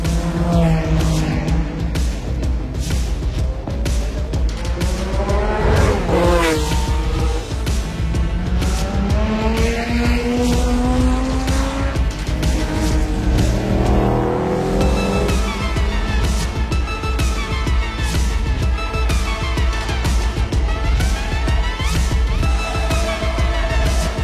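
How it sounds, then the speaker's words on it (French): BMW M1, the first BMW with an M Motorsport badge, running as a classic race car on the Charade circuit at the Tour Auto 2023 historic event; loud engine revving with rising and falling pitch sweeps and tire squeal, continuous throughout. "Juste ici, la BMW M1, qui est la première BMW avec un badge M Motorsport."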